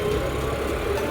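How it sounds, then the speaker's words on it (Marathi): A John Deere 5210 tractor engine runs outdoors at sunset, giving a steady, close mechanical drone with a low rumble and no breaks over the short stretch. "ट्रॅक्टर आता चालूच आहे म्हणायचं."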